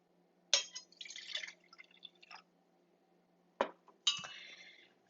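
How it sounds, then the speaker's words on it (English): Wine poured from a bottle into a glass in a few short splashy bursts with light glassy clinks, close and fairly quiet, separated by silent pauses, with no talking. "So I'm going to pour myself some wine here."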